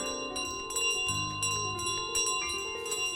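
A bell carried by the goose in Untitled Goose Game rings with steady metallic tones and repeated clanks, moderately loud and continuous, with no talking.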